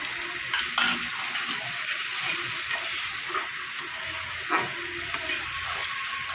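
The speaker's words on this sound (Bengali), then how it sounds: "সামান্য একটু জল দিয়ে দেবো যাতে মশলা না পুড়ে যায়।" A splash of water hits a spice paste frying in a pan. It makes a steady, bright hiss and bubbling with a few light stirring knocks, and nobody talks.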